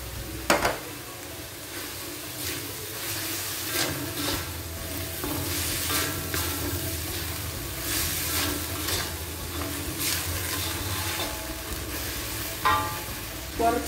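Carrots, leek and vermicelli sizzle steadily in a pan while a utensil stirs and scrapes them, giving repeated sharp scraping strokes over the constant frying hiss, close up.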